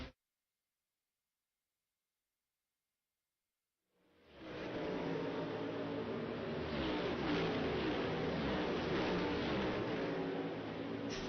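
NASCAR Cup Series cars roaring around Darlington Raceway during practice, engines rising in a sustained loud drone after several seconds of silence, with no speech.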